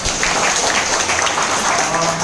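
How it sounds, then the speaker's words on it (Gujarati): Loud, dense applause from an audience at a business seminar held in a hotel hall, steady clapping filling the whole moment with a faint voice beneath. "સૌથી પહેલા એ 2 પર્સન માટે જોરદાર તાળીઓ"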